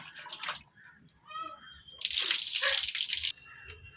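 Tapioca roots being washed by hand in water, with soft sloshing and splashing followed by a steady burst of running water for a second or so, close and fairly quiet.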